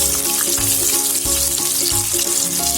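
Chicken 65 deep frying in hot oil, a loud, steady, dense sizzle and crackle that fills the whole stretch without pause, with no voices over it.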